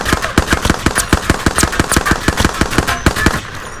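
Rapid bursts from the Hemlock rifle in a shooter game, a dense run of sharp loud reports at a fast steady rhythm with faint clinks between shots.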